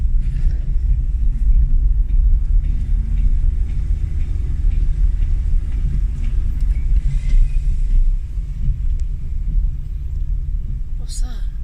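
A BMW E36 fitted with an M50B30 stroker engine drives slowly around the block, heard from inside as a steady low engine and road rumble with a few faint clicks and rattles near the end.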